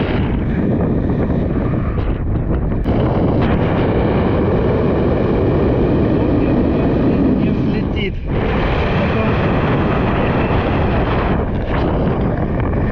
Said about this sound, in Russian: Ветер, конечно, сильнейший дует.